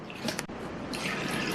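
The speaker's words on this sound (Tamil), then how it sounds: "இது கூட தண்ணி 1 கப் சேர்த்துருக்கேன்." Water splashes and trickles into a kadai close by, a brief steady pour of one cup with a light drip near the start.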